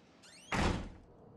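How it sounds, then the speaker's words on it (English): A door slams once inside a dark asylum in the horror game Outlast, a loud close thud preceded by a short creaking squeal, then fading into quiet room tone. "So now we're just slamming all these damn doors, huh?"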